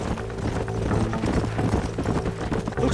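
Horse hooves clip-clop steadily at close range in Red Dead Redemption, a continuous trotting rhythm layered over a busy game soundscape with no talk.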